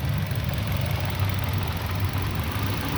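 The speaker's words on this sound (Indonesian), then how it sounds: "Nah, ini suara mesinnya dut-dutan." Nissan Grand Livina engine idling roughly with the air conditioning switched on, with a suspected ignition coil fault, a close, steady low rumble with an uneven, slightly pulsing beat.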